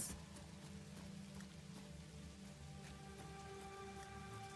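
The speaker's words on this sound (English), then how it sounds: "A warm rain sounds nice." Warm rain falls steadily in the video game Satisfactory, a soft, even patter on surfaces that stays quiet and continuous throughout, with no talking.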